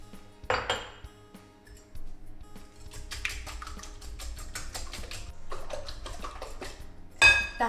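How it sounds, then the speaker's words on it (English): A whisk clatters against a bowl mixing cream for a bread pudding base, rapid metallic ticking in quick bursts after an initial louder clink, close and with no talking. "And then you just give that a little whisk."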